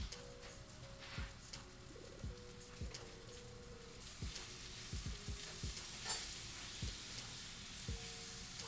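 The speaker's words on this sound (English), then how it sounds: "Gotta turn down my onions so they don't burn. So they're just trying to caramelize and get nice and soft and sweet." Onions sizzle and caramelize in a pan at home, a steady soft frying hiss broken by repeated scraping stirs of a utensil at a moderate, uneven pace, with no voices.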